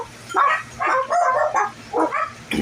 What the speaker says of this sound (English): the neighbor dogs are going to bark